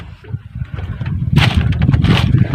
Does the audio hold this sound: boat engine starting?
yes